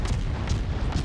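Naval guns firing in the World of Warships video game, a few deep booming shots in quick succession over a steady rumble, loud and close, with no talking.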